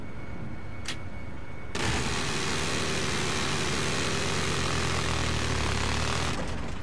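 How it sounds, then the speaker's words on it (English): A loud, close roar from an enemy jet in a video game that starts abruptly and holds steady as it passes, with a brief sharp click before the roar and no voices. "I spotted an enemy jet."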